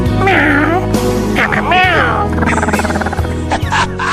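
A man imitates a cat, drawing out loud, wavering meows and yowls one after another, close and exaggerated.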